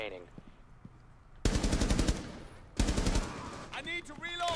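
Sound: gunfire in the video game Rainbow Six Siege

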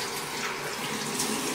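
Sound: baking soda water poured down a sink

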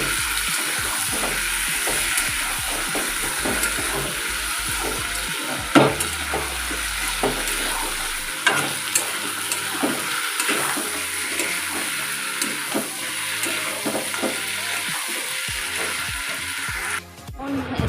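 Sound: meat frying in a pan

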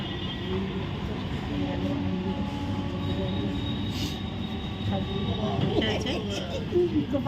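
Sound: passenger train in motion

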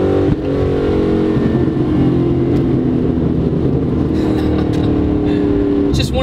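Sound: 2004 Ford Mustang Mach 1 engine and exhaust

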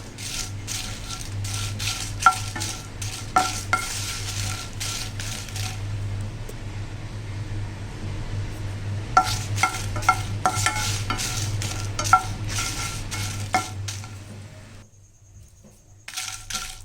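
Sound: dry roasting spices for rasam powder, stirring in a kadai

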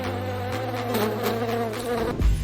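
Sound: housefly buzzing

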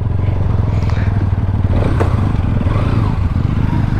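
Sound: Pulsar NS 200 and Apache RTR 200 motorcycles riding off

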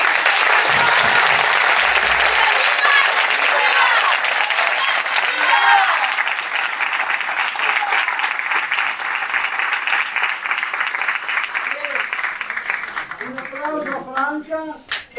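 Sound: audience applause in council chamber

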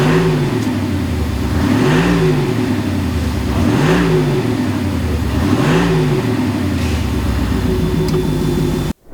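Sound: Audi SQ8 exhaust revving with sound module

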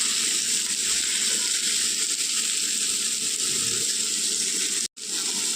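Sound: water being poured into spices while cooking

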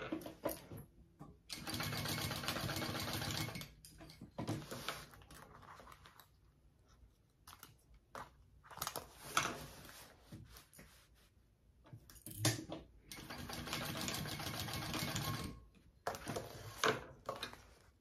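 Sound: sewing machine basting a handbag panel

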